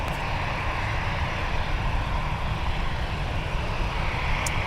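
A departing airliner roars steadily on takeoff from runway 30 right at Minneapolis–St. Paul airport, a loud continuous engine rumble throughout with no break in the sound.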